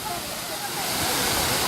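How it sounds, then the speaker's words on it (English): Seven Wells Waterfall in Langkawi gives off a continuous broad rushing hiss of falling water, fairly soft and distant, steady and swelling slightly toward the end. "And up here you can see the waterfall."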